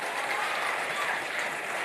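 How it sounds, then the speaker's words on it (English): An audience applauds after a talk on entrepreneurship, a dense, steady wash of clapping close by and fairly loud. "Wow, keep the applause coming."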